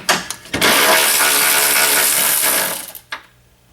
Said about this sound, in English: I got a 12mm socket on this 3/8 ratchet. I'm going to take these radiator support bolts out.